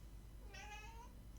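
A cat gives a single short, rising meow, fairly faint over a low steady hum, with no one talking.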